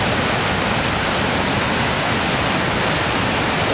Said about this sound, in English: A lot of energy going over this falls here today.